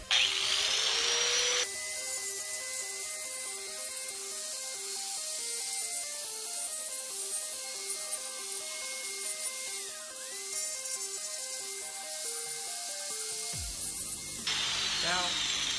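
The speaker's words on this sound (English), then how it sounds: "I'm going to grind." A power tool grinds scratched handguards with a sustained, steady whirring drone that holds for over ten seconds, then cuts off briefly before starting again, loud and close.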